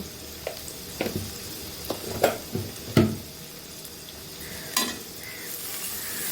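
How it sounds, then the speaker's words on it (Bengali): Spices with turmeric and pumpkin greens fry in a pan, a soft sizzle beneath repeated scraping strokes of a stirring spatula, with a few sharper clacks against the pan. "সবগুলিকে একটু ভালো করে ভেজে নেব।"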